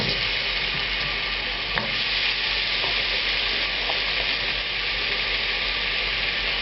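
Apple pieces fry in about an ounce of vegetable oil in a hot pan, making a dense, even sizzle that holds steady and close throughout, with a faint tap or two.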